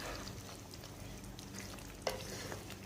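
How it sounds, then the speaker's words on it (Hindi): Meat frying in a pan on medium flame gives a continuous soft sizzle, faint and close, with light stirring noises and one brief clink of utensil on metal. "अब आपने मीडियम फ्लेम के ऊपर गोश्त को अच्छी तरह भूनना है"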